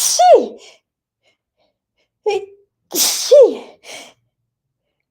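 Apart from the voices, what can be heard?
sneezing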